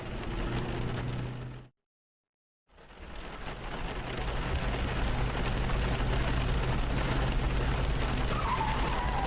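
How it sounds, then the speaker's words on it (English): Rain patters on a car windshield in a video game, a dense steady hiss with a low rumble, broken by a brief silent gap before the downpour resumes louder. "Rain. A windshield. And get your wipers on that."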